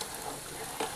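A pot of moong dal with tomatoes added bubbles and sizzles briefly at close range, a short burst of steady crackling with no voices.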